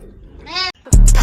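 A kitten gives a single drawn-out meow, close and fairly loud, followed by a brief gap and then a burst of louder, noisy rustling or handling sounds.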